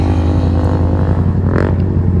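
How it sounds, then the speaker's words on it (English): A Nissan GTR car roars past a motorcycle on the road, a loud, steady engine drone close by with a brief rising surge as it goes by. "You see as that GTR passed that man on the bike there so hard."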